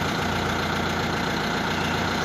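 A Mahindra tractor hauling a loaded trolley idles steadily while stuck in a narrow village lane, its engine a loud, close, continuous rumble with no voices over it.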